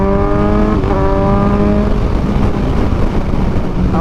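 A 2023 Kawasaki Ninja 1000SX with a 1000cc engine accelerates hard, its rising, continuous engine note loud and close throughout, with no pauses.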